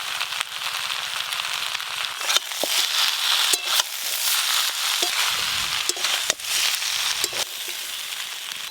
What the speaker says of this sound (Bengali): মশলার সঙ্গে সবজি আর নারকেল কোড়া একসঙ্গে ভালো করে কষে নিয়েছি।